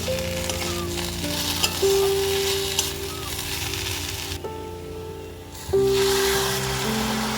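Water is poured into a hot pan of sizzling spices, giving a loud, continuous frying hiss that briefly drops away and then surges again when the liquid hits.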